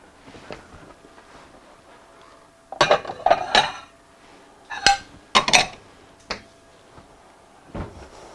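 Plates and dishes are handled in a home kitchen during macaron making: scattered sharp clinks and knocks of crockery come in several close bursts over a quiet background, with no talking.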